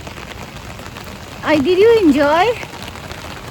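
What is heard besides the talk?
light rain falling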